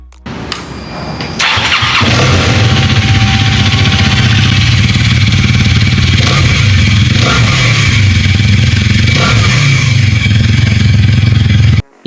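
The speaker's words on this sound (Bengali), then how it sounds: "Now let's check the engine sound." A Hero Karizma XMR 210 motorcycle engine starts and then idles steadily up close, a loud, even throbbing hum that holds for about ten seconds before cutting off, with no talking.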